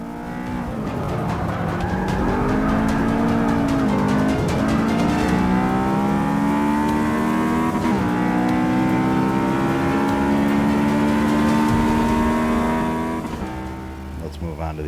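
An IndyCar in a racing video game accelerates and skids, its engine whining steadily upward through the gears, with tire squeal and a rising rev held loud and continuous before easing off at the end.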